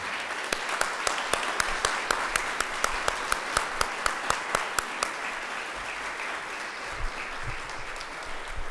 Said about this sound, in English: A round of applause for all of these people